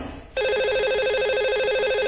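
A telephone rings for a lucky-caller segment on a live Hindi TV call-in show. After a brief quiet start, a bright, warbling electronic ring comes in and repeats steadily at an even level.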